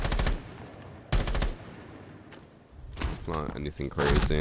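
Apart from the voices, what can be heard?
gunfire bursts in the video game Rainbow Six Siege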